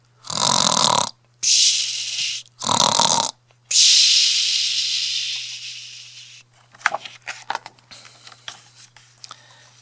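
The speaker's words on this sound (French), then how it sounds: "Pierre entend les ronflements" Several loud, rasping snores in slow rhythm, the last one long and fading, followed by softer rustling and clicks.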